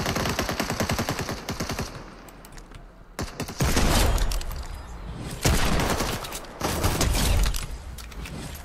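Gunfire in Fortnite's OG season: rapid close machine-gun bursts at first, then heavier, louder volleys of shots and clattering weapon mechanics, with no talking.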